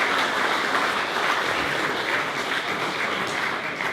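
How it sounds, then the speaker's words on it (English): A room of diners at a club's 125-year celebration dinner breaks into applause, dense and even clapping that holds at full strength throughout without any talk over it. "So I think that might do with a round of applause."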